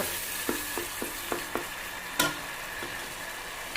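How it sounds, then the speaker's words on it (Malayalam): Fish masala with curry leaves being sautéed in a pan: a steady low sizzle with several sharp spoon-against-pan clicks at irregular intervals and one louder scrape, no voices. "ഇതിലൊക്കെ കരിവേപ്പില ഇട്ട് കൊടുത്ത് നമ്മൾ ഇതൊന്നും കൂടെ ഒന്ന് നല്ലോണം കൊണ്ട് വഴറ്റി കൊടുക്കുക"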